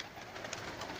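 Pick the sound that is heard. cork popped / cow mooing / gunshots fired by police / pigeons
pigeons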